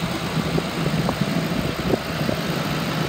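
2008 Ford Crown Victoria Police Interceptor with about 167,000 miles, its engine idling smoothly after running a long while, a steady low rumble with faint irregular ticks heard close up and without speech.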